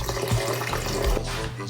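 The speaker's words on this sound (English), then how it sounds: "Then I'm gonna add a 1/4 cup of spring water." A quarter cup of spring water poured into a blender for vegan mayo, a steady close splash of running liquid with a few small clinks, no talking.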